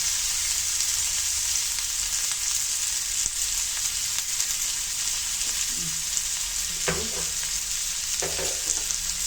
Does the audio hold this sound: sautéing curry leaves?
yes